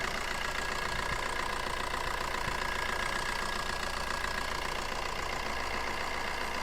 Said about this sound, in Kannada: ಪೆಟ್ರೋಲ್ ಇಂಜಿನ್ ಥರ ಸೌಂಡ್ ಇದೆ.